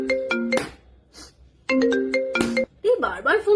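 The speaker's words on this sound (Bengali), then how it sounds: "এই বারবার ফোন করছে তো" A mobile phone ringtone plays two loud bursts of bright, repeating electronic tones separated by a short pause, and a voice speaks right after.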